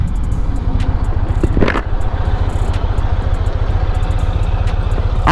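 A Chevrolet Camaro engine runs nearby with a loud, steady low rumble that holds an even pitch throughout, without clear rev swings.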